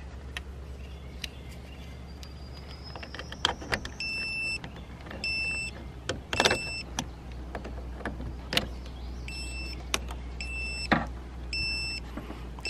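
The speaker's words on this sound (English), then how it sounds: "Beeping at me. I think that means it's not working right." A TrekPow battery jump starter box connected to a car battery beeps in repeated groups of short, high electronic tones. Scattered clicks and handling knocks sound over a low engine-like hum, with no talking.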